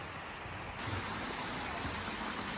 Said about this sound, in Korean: 이렇게 이 물들이 떨어져서 아까 그 폭포를 만드는 겁니다.